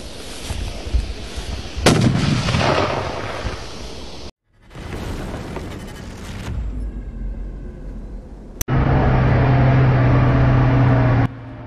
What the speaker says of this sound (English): Fires a smokescreen at night during the fighting on the southern front.